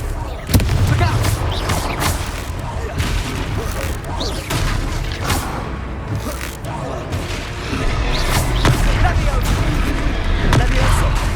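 Confringo spell explosions in Hogwarts Legacy on PS5 boom repeatedly through a dense, loud battle din, with thuds and crackling blasts scattered throughout.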